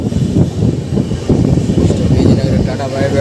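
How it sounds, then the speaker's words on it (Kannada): A train departing Vijayanagara, heard as a steady, loud low rumble and rattle that continues throughout, with voices talking over it. "ಟ್ರೈನ್ ಹೋಗ್ತಾ ಇದೆ."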